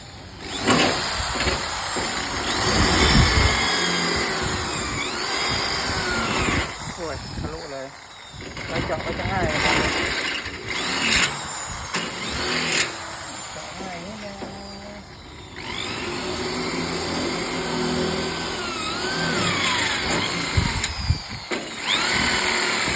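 A power drill whirs in repeated bursts, close and loud, with pauses between runs while someone talks over and between them.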